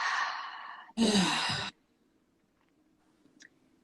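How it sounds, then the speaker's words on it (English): A slow breath exhaled through the mouth sounds up close, a soft airy whoosh followed by a second, stronger breathy release, then near silence with a faint click. "Exhale through the mouth."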